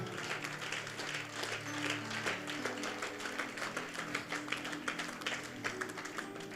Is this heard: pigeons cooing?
no